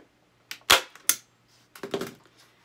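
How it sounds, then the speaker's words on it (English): Staple gun driving staples while upholstering a reindeer craft: a few loud, sharp snaps close by, about half a second apart, then a softer cluster of clicks and rustling handling sounds. "you hold your staple gun down, and it just makes a loud noise"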